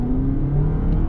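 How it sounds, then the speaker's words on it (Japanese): A Toyota Crown hybrid sedan engine revving up with a steady rising whir and low rumble, close and fairly loud, no voices. "アクセルを踏むと"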